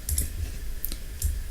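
Mouse clicks while working in Autodesk Inventor assembly software, two or three short crisp taps over a steady low hum, close and fairly quiet.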